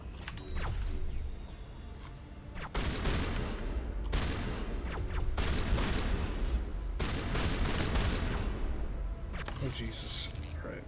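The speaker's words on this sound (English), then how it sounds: "why are you using your pistol?" Pistol and other gunfire rattle in a Mass Effect battle, rapid shots and bursts in dense clusters with brief gaps, mixed with mechanical game effects over several seconds.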